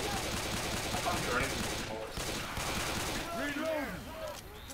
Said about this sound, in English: Love that these pistols have infinite ammo.